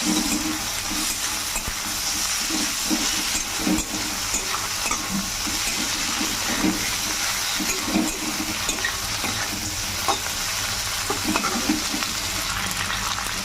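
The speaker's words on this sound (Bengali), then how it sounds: "এগুলোকেও পেঁয়াজের সঙ্গে একটু ভালো করে ভেজে নেব।" Crushed garlic and tomatoes fry with onions in a pan, a steady close sizzle with soft stirring scrapes running throughout, no voices.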